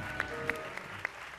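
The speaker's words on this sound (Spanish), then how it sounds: "Aplausos para la gacela." Scattered hand claps from a TV studio audience during an Argentine game show, a few sharp isolated claps over a low murmur rather than a full sustained ovation.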